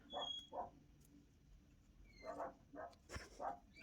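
Puppies giving short, soft yips and barks in scattered bursts, fairly quiet and close, with brief pauses between the little calls.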